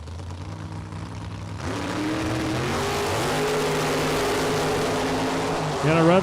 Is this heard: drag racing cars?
yes